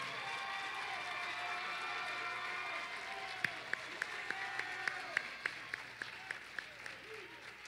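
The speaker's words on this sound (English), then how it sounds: "I want you to take a moment to give yourself a round of applause" Graduates at a dentistry and social work graduate ceremony applaud in a steady crowd clapping with some cheering, and a few sharp, rhythmic claps stand out near the end.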